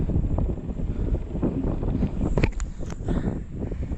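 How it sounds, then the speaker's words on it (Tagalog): Strong, very cold wind roars steadily against the microphone during a downhill bike descent, a continuous buffeting rush with a few faint high squeaks, no voices. "Hakampasin ka ng napakalamig na hangin."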